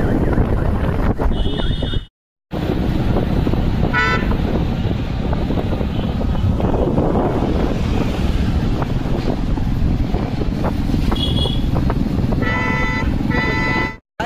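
Steady roar of wind buffeting the microphone over a low motorbike engine drone while riding in cold weather, broken by a brief dropout, with faint whining tones now and then.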